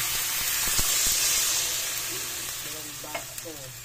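Broth poured over mussels sautéing in a hot pan with kangkong, then stirred, with a close, steady sizzle, hiss and scraping stirring strokes throughout, no voices.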